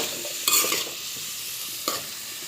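Cauliflower with ginger and turmeric sizzles steadily in a pan while a spoon stirs it, giving two sharp scraping clatters over the continuous close frying hiss.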